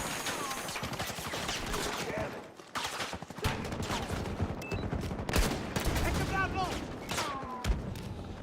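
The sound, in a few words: MP9 gunfire in the video game Battlefield 6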